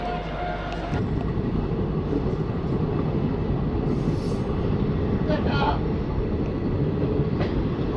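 The Malda–Howrah Intercity Express pulls out of Nabadwip Dham station with a loud, continuous rumble and clatter of coaches that swells after the first second and holds steady.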